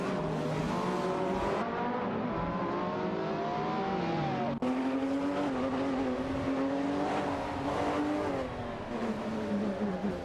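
Video game race cars, a Caterham Super 7 1700 SS and a Porsche 993 Turbo SE, roar continuously with high-revving engines, pitch sweeping up and down through gear changes, loud and close throughout.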